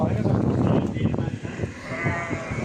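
Sheep-like livestock of an unfamiliar breed bleat and call over a noisy outdoor background at Zaanse Schans, Zaandam, with people talking at the same time.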